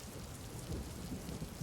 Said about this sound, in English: Rain battering down on the top of this shelter that you've all put together